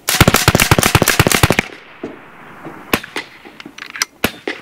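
A BIN TAC S45 semi-automatic air rifle fires a fast string of about a dozen sharp cracks in under two seconds, followed by a handful of scattered, separate shots nearby.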